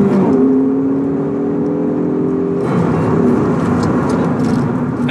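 A 2014 Ford Focus ST's turbocharged four-cylinder engine revs and accelerates, a steady loud motor drone with rising pitch that shifts partway through, rushing air and road noise throughout.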